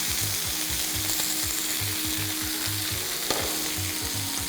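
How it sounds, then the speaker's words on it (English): Beef frying in a pan, a constant close sizzle and crackle with a rhythmic scraping or stirring pattern running underneath, no voices. "So I just want to turn my beef on the other side."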